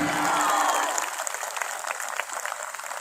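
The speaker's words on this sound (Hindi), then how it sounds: "जरा अपने लिए जोरदार तालियां बजाइए" Children clapping for themselves at a Republic Day school gathering. A tonal voice or whistle rings out at the start, then a dense patter of applause carries on at moderate distance.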